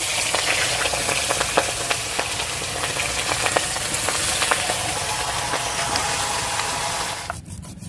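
A fish head rubbed with salt and turmeric sizzles in hot mustard oil in a wok. The frying hiss is loud, steady and close, with small crackles, and it drops away abruptly just before the end.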